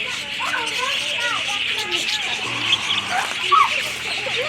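A yellow and green bird calls at the Louisiana Purchase Gardens and Zoo in Monroe, Louisiana, with many short chirps and whistled notes scattered through a steady outdoor hum and faint background voices.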